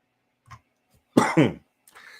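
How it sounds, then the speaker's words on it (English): Two close coughs from one person, fairly loud and near, with a few faint throat noises before and a soft rustle after, no talk. "I do, of course, continue coughing."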